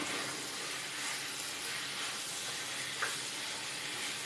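Onions and spices with sambar powder sautéing in a pan, a soft continuous hiss and sizzle, fairly faint and even, with one small tick partway through and no talking.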